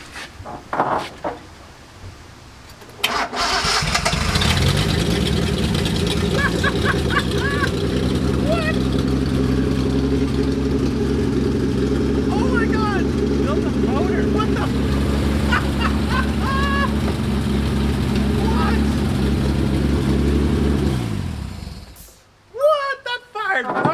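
A Datsun 240Z junkyard engine with carburetors cranks over, fires up and runs at a rough, loud idle with a few revs for about eighteen seconds, then shuts off, with brief noises before and after.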